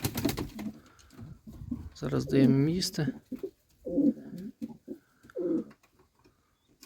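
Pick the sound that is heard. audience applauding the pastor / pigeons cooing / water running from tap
pigeons cooing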